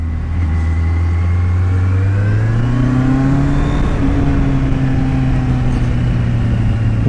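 A motorcycle engine revving on a go-kart training track, a loud, steady close drone whose pitch climbs smoothly as the bike gathers speed, holding high and even to the end with no talk over it.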